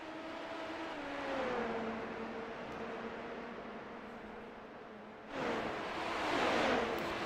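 Race cars on the Detroit Belle Isle street circuit drone past at a distance, one engine tone sliding down before a louder burst of passing cars and rushing noise near the end.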